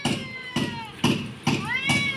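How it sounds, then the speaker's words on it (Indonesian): Cat meowing indoors at home, five short distinct meows evenly spaced about half a second apart, close and clear, each rising then falling in pitch. "Oh, datang kesayangan ya, si kucing, si kucing, kucing."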